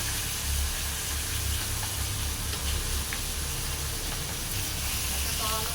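Swordfish pieces fry in hot oil with a steady, continuous sizzle and hiss that hold at an even level from start to end, close by, with a low rumble underneath.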